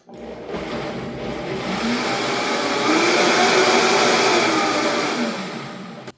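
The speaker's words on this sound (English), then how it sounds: "we're going to turn the Vitamix on, mix it" A Vitamix blender whirs steadily for about six seconds while blending a vegan Mediterranean bowl ingredient, its motor building to a loud, broad roar and holding there, with no talking over it.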